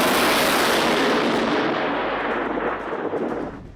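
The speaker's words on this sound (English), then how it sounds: "Lightning struck the water, followed by a sound similar to an actual explosion." Thunderous boom from lightning striking water, a loud, dense broadband roar that stays heavy and sustained before slowly fading toward the end.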